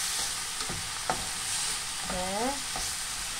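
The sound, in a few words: frying vegan pineapple fried rice in a pan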